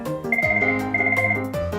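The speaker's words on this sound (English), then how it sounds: "such as if a phone is ringing" A telephone ringing in a workplace or office, a steady electronic ringtone with repeating tonal bursts, loud and close with no talk over it.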